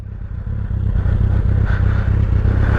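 A 2000 Suzuki Hayabusa motorcycle engine idles close by in a parking lot, a steady low rumble with a regular pulsing beat and a faint mechanical clatter, no voices.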